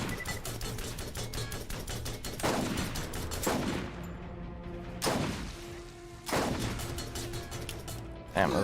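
Borderlands combat with a grenade blast and gunfire: a steady rattle of rapid shots broken by several heavy booming bursts, loud and close, with faint talk underneath.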